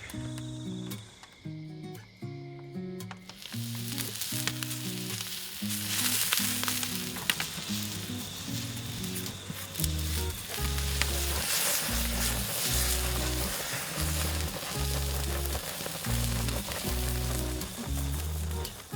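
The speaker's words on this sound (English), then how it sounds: "then simply fry it with a shitload of butter on a nice hot cast iron plate or pan" Fish frying in plenty of butter on a hot cast iron pan, a steady loud sizzle that runs throughout, with music playing underneath.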